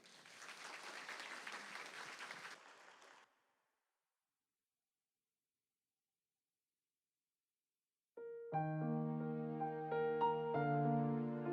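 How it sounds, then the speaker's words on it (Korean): A church congregation at a Sunday service breaks into warm, even applause for about three seconds, then falls silent before piano music begins. "박수로 맞이하겠습니다"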